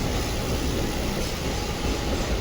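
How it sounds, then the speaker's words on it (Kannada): Mumbai AC local train arriving, a loud, steady roar of wheels and carriages close by with no voices. "AC ಲೋಕಲ್ ಬರೋದು"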